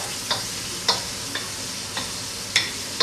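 Seafood cooking in a pan, with a steady soft sizzle and several sharp utensil scrapes or taps against the pan at irregular intervals, close and alone.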